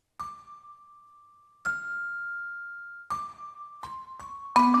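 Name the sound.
celeste and vibraphone playing dampened pizzicato-style parts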